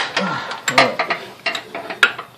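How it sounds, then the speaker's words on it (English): Socket wrench ratcheting on the alternator of a 1999–2004 Oldsmobile Alero with the 3.4-liter engine, a run of short uneven clicking bursts close by, with no talk. "Trying to get my socket wrench back."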